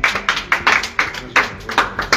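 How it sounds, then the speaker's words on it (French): A small group claps at a lively quiz contest, with a quick, uneven rhythm of close, sharp hand claps repeating for about two seconds, no voices over them. "Applaudis Gigi."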